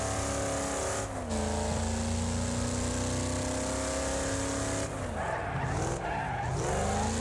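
A big rig truck races around a dirt track in Wreckfest at about 160, its engine droning loudly and steadily before tires skid and squeal through a corner near the end, with no talk.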